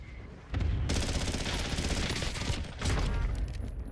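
A PPSh submachine gun in Black Ops 6 Zombies fires long, dense bursts of rapid shots, loud and close, with a brief pause before another sustained stream of fire.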